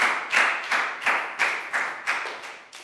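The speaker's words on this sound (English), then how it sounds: "Big round of applause for Pangpon." A classroom claps for a Year 4 student, about eight evenly spaced group claps in a steady rhythm, close and fairly loud with no talk.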